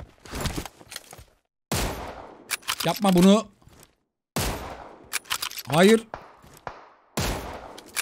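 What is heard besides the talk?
gunfire in a firefight, video game PUBG Mobile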